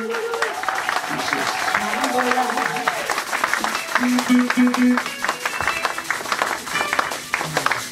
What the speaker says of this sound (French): On acclame, on acclame, on acclame. Applaus, applaus.